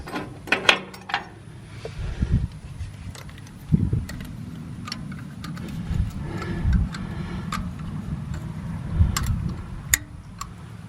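A 10 mm wrench works a bolt on a Cummins diesel injector pump of a Case 580, giving close, irregular metallic ratcheting clicks and taps spread over a low mechanical rumble.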